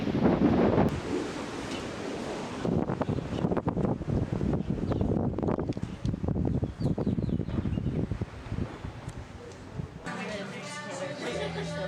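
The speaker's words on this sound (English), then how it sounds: "it's windy" Strong wind buffets and roars across the microphone in gusts, loud and close, while a person talks over it before the rush eases near the end.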